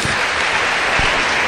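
Church congregation applauding during a worship service, a dense, continuous wash of clapping heard close and fairly loud.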